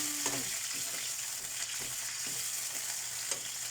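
Century tuna fries with garlic and onion in a pan, a continuous low sizzle broken by a few soft stirring clicks, close but fairly quiet, with no voices.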